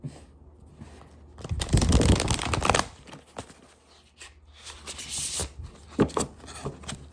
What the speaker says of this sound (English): All of a sudden, these cards don't want to shuffle.